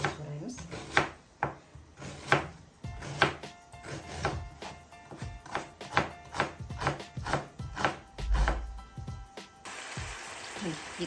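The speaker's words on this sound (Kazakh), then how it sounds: "жуамызды туралайық" An onion is sliced on a cutting board with a knife, giving a run of crisp, fairly regular chops close by, about a dozen strikes in quick succession.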